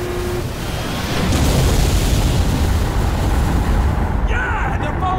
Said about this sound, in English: Control 2 Lima 4, permission to commence bombing run